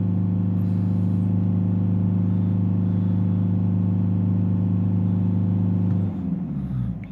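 A Mercedes E Class diesel engine with a DPF fault holds at a steady raised rev with a strong, even hum, then drops back toward idle near the end, recorded close by with no talking.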